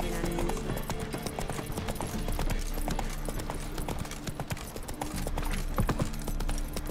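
Roach, Geralt's horse in The Witcher 3, clip-clops at a steady walking rhythm, hooves close and continuous through the whole stretch over a busy game soundscape with a brief whinny-like note.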